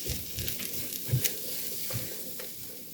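Jicama home fries with peppers and onions sizzle in a pan, a soft steady crackle with a few light scrapes and taps of a utensil stirring, fairly quiet and close with no voices.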